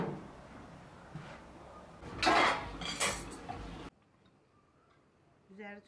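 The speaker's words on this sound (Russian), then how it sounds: "И положите тарелку поверх долмы." Ceramic clatters as a plate is set on top of dolma in a metal pot with water, a few sharp clinks and scrapes, close and fairly loud, followed by near silence.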